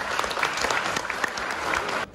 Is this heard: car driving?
no